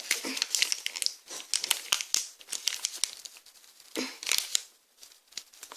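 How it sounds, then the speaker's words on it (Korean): A powder packet, for a yogurt stick ice bar mix, is torn open close by with a run of sharp crinkling, rustling rips in quick bursts, no voice. "여기 뜯는 부분 뜯어볼게요"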